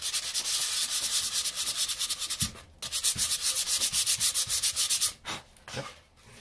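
A power sander rounds the edges of a wooden floating shelf, producing a loud, close, rhythmically pulsing abrasive whir as it is swept back and forth, with brief pauses between passes.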